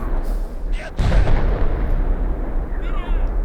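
Gunfire in the military video game Arma 3 during a firefight: heavy, booming shots and a sustained rumble of battle, loud and close, with shouting voices mixed in.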